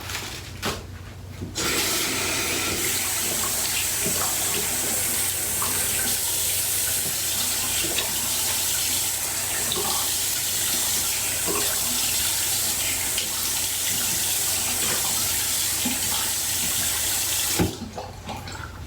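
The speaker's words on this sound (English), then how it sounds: "Now once that's all on, I'm gonna go ahead and rinse off." A bathroom tap runs steadily at close range while someone rinses skincare product off their face, a constant splashing hiss that cuts in sharply at the start and stops abruptly near the end.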